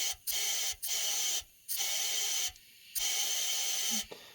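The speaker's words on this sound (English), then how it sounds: "there's air coming out of this hole" Steady hissing rushes of air escape from an engine's dipstick tube hole, coming in long bursts separated by short pauses, repeating four or five times in a close, even rhythm with no talking.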